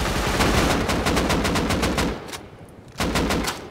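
Rapid automatic gunfire in the video game Rust from a rifle fitted with a muzzle brake, loud sustained bursts that cut off briefly and then resume in a second, shorter burst.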